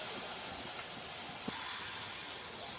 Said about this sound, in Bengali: গুড় ভালোভাবে ফুটে গেছে